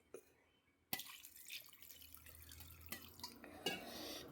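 Thin second-press coconut milk is poured into a cooking pot of chicken and potatoes. Soft dripping gives way to a sudden splash, then a continuous quiet trickling pour with small splashes.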